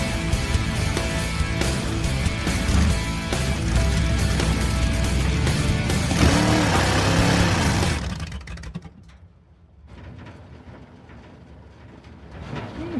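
A car's engine runs loud and steady at close range while warming up, a dense unbroken roar that fades and softens toward the end, with no voices.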